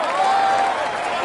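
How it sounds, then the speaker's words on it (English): Virtual crowd in the Tour de France 2017 PS4 game applauds the yellow jersey rider on a mountain stage: a steady, even wash of cheering and clapping under a commentator's voice, continuous and fairly loud throughout. "you can clap him loudly"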